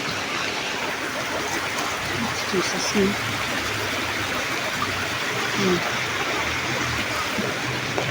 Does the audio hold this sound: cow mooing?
no